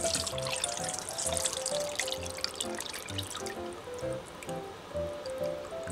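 Cooled soy sauce ramen tare with garlic being strained, a steady run of soft drips, trickles and splashes of liquid close by, fairly quiet throughout.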